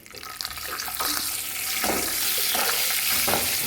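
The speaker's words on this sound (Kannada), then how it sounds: "ತುಪ್ಪ ಬಿಸಿ ಆಯಿತು ಗೋಡಂಬಿಯನ್ನು ಹಾಕಿ ಫ್ರೈ ಮಾಡ್ತಾ ಇದ್ದೀನಿ ನಾನು" Cashews frying in hot ghee in a pan, a close bubbling sizzle that builds and holds steady with faint stirring.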